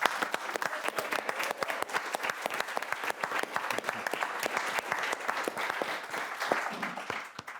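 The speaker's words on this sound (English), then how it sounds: "I'd really like to invite everyone to applaud you and your efforts," Sustained applause from an audience at a history panel discussion launch event, dense steady clapping throughout with no talking over it, fading slightly at the end.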